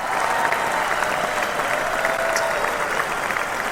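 Loud, sustained studio audience applause for College of Southern Nevada Athletics, dense clapping and crowd noise holding steady without a break.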